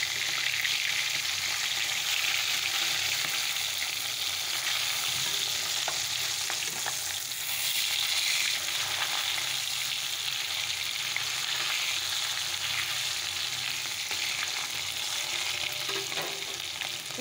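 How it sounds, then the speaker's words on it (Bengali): Fish frying in a pan in a home kitchen: a steady, continuous hiss and crackle of hot oil, close and moderately quiet, with occasional stirring, and no voices. "তো মাছগুলো ভাজা বসিয়ে দিয়েছি"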